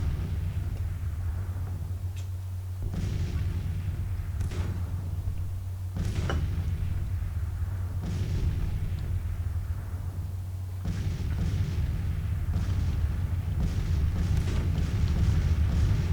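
Artillery fire in the Civil War strategy game Grand Tactician, repeated distant booming thuds every couple of seconds over a steady low rumbling ambience, with no voices.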